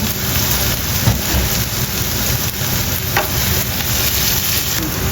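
Onions and green chillies frying in a pan for a spicy egg bhurji, a loud continuous hiss with scraping stirs and little pops, close up, no speech.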